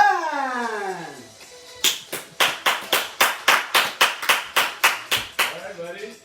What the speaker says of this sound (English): Let's welcome and big round of applause to Brother